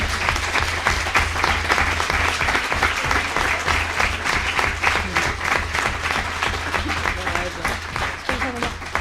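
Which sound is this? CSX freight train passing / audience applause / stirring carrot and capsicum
audience applause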